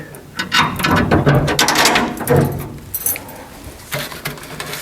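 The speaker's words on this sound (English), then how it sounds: "Let's get a bolt in here quickly." Ratcheting a bolt tight while fitting the brake booster on a 1930 Hudson car build, a series of quick clicking ratchet and metal mechanism sounds, close and fairly loud, easing off toward the end.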